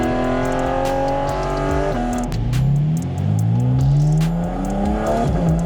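A 2023 Porsche 718 Cayman GT4 RS being driven, its engine revving up through the gears with rising pitch, a brief drop at a shift, then climbing again, loud and close with no talk.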